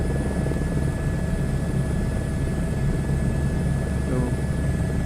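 A helicopter cruises at around 130 to 150 knots in Microsoft Flight Simulator 2024, its steady rotor and engine drone continuous and fairly loud, with a voice talking over it.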